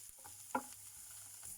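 Onions, chilli, garlic and curry leaves frying in oil, giving a soft, steady sizzle with a brief louder crackle as leaves hit the pan, stirring sounds faint beneath, no talking.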